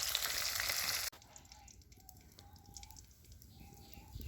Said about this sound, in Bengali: কপিগুলো একটু লাল লাল করে ভেজে নিই